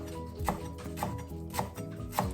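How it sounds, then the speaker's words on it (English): Knife chopping rolled fresh parsley on a board, with four evenly spaced crisp chops over steady background music. "So while the pasta is cooking, I'll be chopping my parsley."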